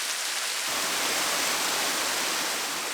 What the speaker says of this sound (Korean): 산 정상이 아니라 암벽 사이에서 쏟아지는 폭포입니다.